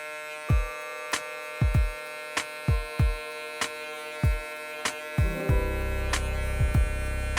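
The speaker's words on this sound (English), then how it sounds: "That's with this clipper right here." Hair clipper used on a high skin fade, heard as a series of close, sharp clicks and taps that give way to a steady electric buzzing hum near the end.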